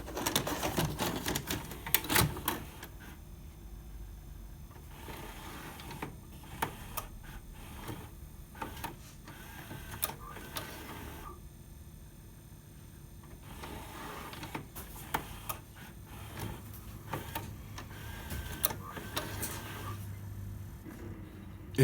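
A DVD/VCR combo unit whirs and clicks mechanically as it repeatedly tries to play an inserted tape, with bursts of ticking and rattling separated by quieter pauses, no voices.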